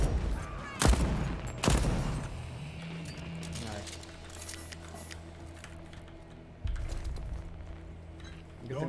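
Gunfire in the video game Deathloop: two loud, sharp shots early, then a busy stretch of rapid clicking and mechanical rattles with a later thump, under someone talking.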